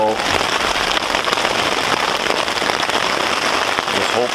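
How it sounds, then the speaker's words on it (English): Heavy rain pelting a tarp over a canoe-trip campsite, a dense, loud, continuous drumming patter close by, alone with no talk. "So we're getting pelted with rain. You hear it? The tarp's not doing anything."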